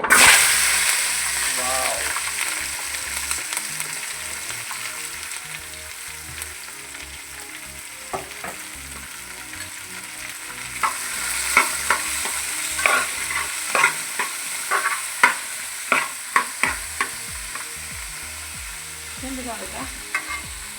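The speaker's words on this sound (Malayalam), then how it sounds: "പിന്നെ ഉള്ളിയും പൊടി എന്താണ് ക്യാപ്സിക്കവും കൂടി വഴച്ചെടുക്കാൻ വേണ്ടി വെളിച്ചെണ്ണ ഒഴിച്ചിട്ടുണ്ട്" Onions and capsicum sauté in coconut oil, sizzling steadily in a pan while a spoon stirs and scrapes, with sharp clinks and taps growing louder toward the end.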